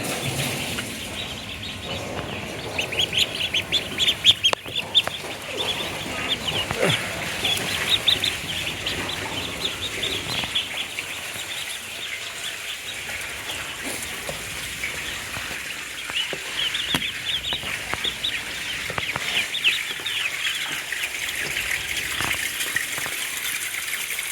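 Pekin Star 13 broiler ducks eat commercial feed in a farm shed in northern Bangladesh, with a steady bed of soft pecking, shuffling and quiet fowl calls running throughout and a few louder clicks.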